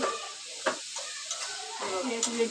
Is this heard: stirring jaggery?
yes